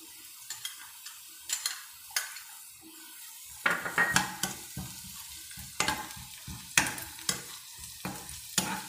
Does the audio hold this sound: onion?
yes